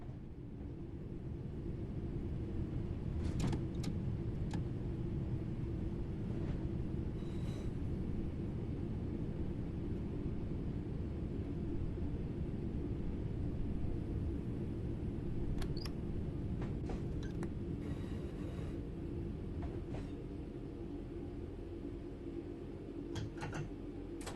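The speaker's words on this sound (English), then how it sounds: "The train will then coast on level ground, and the train will only slow down very gradually." A train coasts on level track in Train Sim World 4, a steady low rumble and rolling drone with a few faint clicks and clanks scattered over it, continuous and even.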